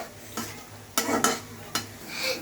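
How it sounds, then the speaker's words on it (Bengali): Chicken fries in a pan with onions and chillies while a utensil stirs it, producing a few distinct scraping strokes over a low sizzle, close and clear. "এবার ভালো মতো নেড়ে নিতে হবে।"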